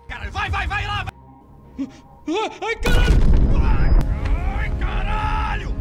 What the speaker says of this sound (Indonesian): Anak buah Azura mampus setelah Joe melemparkan granat